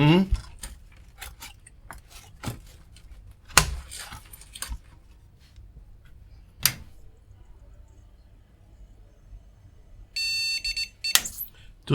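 A retro gaming PC with its graphics card moved to another slot clicks and clatters under handling, then gives a brief run of electronic beeps near the end, with a few short voice sounds in between.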